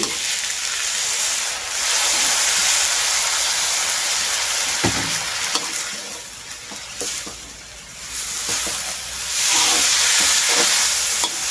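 Continuous loud sizzling as spaghetti with stir-fry sauce and holy basil is tossed and scraped around a hot pan, the hiss swelling and easing with each stir.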